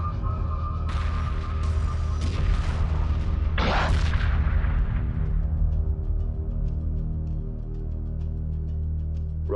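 An enemy frigate exploding in the space strategy game Homeworld, a dense rumbling boom with crackling bursts that swells in the first seconds, then fades into a low drone.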